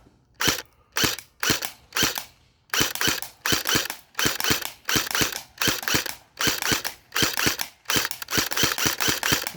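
An airsoft AK insurgent AEG rifle fires around twenty crisp semi-automatic shots outdoors, sharp close snaps in quick uneven bursts with short pauses between groups.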